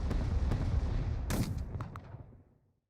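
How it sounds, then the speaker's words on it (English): Naval bombardment in the strategy game Unity of Command II, a dense run of booming shell impacts and rumbling blasts with a sharp burst near the middle, loud and close, then fading away to silence. "Then we'll use naval bombardment."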